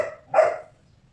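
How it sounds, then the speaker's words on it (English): A single dog barks just outside a window, one short muffled bark in a quiet indoor setting, moderately loud and alone. "Sorry about the dog. He's right outside my window."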